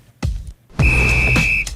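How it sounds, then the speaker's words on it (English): A whistle blown once in a sharp, sustained shrill blast lasting under a second, loud and close, preceded by a short thump-like noise. "The second to last whistle, which means we've only got one whistle left"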